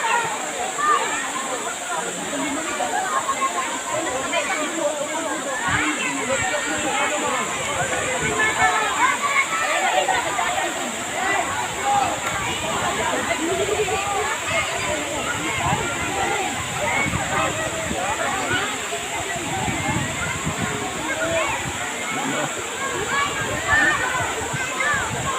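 Daranak Falls waterfall pouring steadily with splashing water and people bathing, a loud continuous rush throughout with voices talking over it.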